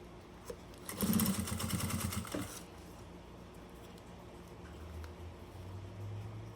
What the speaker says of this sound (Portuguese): vou costurar essa beiradinha dourada aqui lá dentro